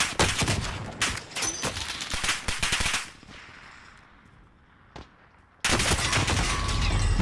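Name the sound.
gunfire in a shooter video game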